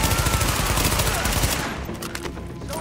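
Rapid automatic fire from an MP5 submachine gun in the third-person shooter The Division, a dense burst of loud close shots that stops halfway through.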